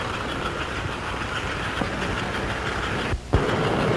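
An American Flyer model train rumbles and rattles steadily, then a short hiss and a sharp clunk near the end as it jolts into motion.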